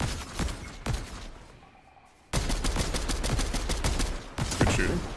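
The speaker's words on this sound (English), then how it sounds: "No, it was like a exploding rifle or something." Bursts of gunfire from an exploding rifle in a video game, loud, close rapid volleys broken by a short lull before the firing resumes and carries on to the end.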